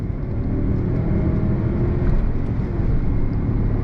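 A 2022 Mazda CX-9 all-wheel-drive midsize SUV accelerates under throttle, giving a steady, loud cabin drone of engine and road noise with no break.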